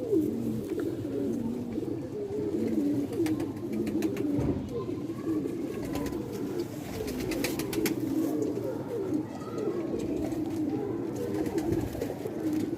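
Pigeons kept by a fancier coo steadily and close by, their low rolling calls overlapping without pause, while occasional wing flutters and faint background noise sit underneath.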